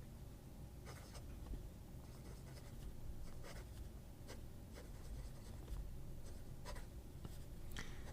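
A fountain pen with a fine Peng Cheng standard nib scratches faintly across notebook paper in short, repeated strokes against a low background hum.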